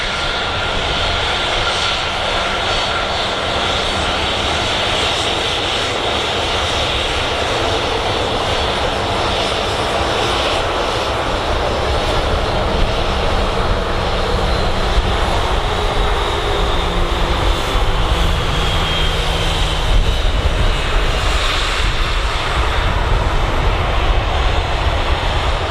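A Jet2 airliner's jet engines roar steadily at Manchester Airport, a loud, continuous broadband rumble and whine lasting throughout, with no voices.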